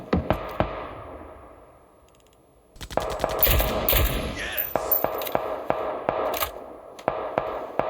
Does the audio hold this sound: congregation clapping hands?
no